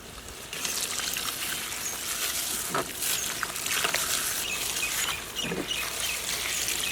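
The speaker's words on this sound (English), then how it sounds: "Adding some water." Water is poured into a pan of mutton curry, Kashmiri rogan josh with ginger powder, fennel seed powder and curd, giving a steady sizzling, pattering hiss that runs throughout with a few brief splashes.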